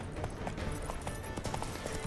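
Hoofbeats of Roach, the horse in The Witcher 3, galloping in a steady clip-clop rhythm at moderate level over a low game background rumble.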